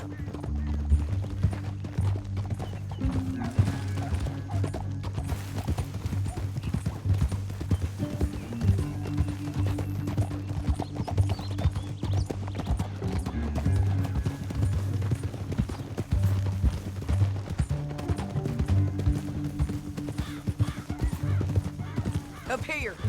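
Rhythmic hoofbeats of galloping horses in the video game Red Dead Redemption continue throughout, with a horse whinnying briefly amid steady background sound.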